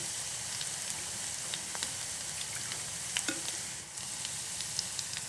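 Panch phoron spices sizzling in hot oil for a tempering for lentil dal, a steady crackling hiss with scattered sharp pops and a few light stirring clicks, close and alone.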